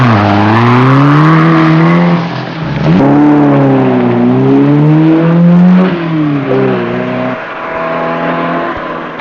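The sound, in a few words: rally car exhaust noise while racing, 1974 Lebanon Syria Rally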